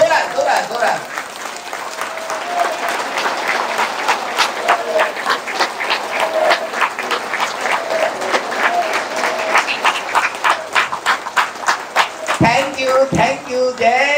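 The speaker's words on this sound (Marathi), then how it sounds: "तुमच्या स्वतःसाठी जोरात टाळ्या वाजवायच्या" A devotional gathering at a Guru Purnima satsang breaks into loud, sustained applause from a large audience, dense rapid clapping throughout, with a voice coming in near the end.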